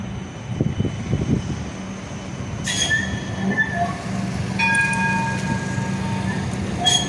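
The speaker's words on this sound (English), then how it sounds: "These are our new modern trams." A long, bendy modern tram rolls past on St Kilda Road in Melbourne, a steady rumble with metallic wheel squeal rising midway and continuing to the end, fairly close and loud over city background noise.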